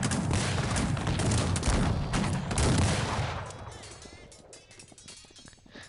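Dense volleys of musket fire from massed army ranks in Cossacks 3, a 2v2 multiplayer real-time strategy battle, crackling in a continuous loud barrage that thins and fades toward the end.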